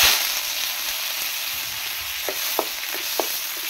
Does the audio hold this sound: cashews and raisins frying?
yes